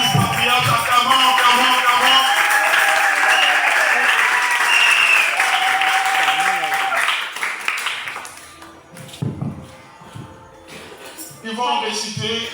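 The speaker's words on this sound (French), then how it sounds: "Acclamons." A church congregation applauding, dense loud clapping for about eight seconds that then thins into scattered claps, with voices speaking near the end.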